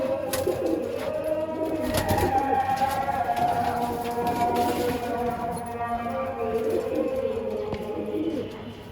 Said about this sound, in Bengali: এই যে আরেকটা একত্রিশের কবুতর